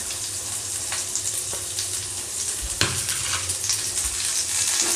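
Chopped ginger, garlic and green chilli fry in a pan for egg chop, giving a constant crackling sizzle with occasional stirring scrapes and one sharp clank.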